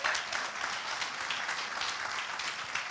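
A church congregation applauds steadily, a dense, even wash of many hands clapping continuously with no break, heard after worship music.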